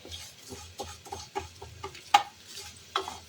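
Roasted vermicelli frying in ghee for payesh makes a quiet, close sizzle broken by irregular stirring scrapes and a few sharp ticks of a utensil against the pan.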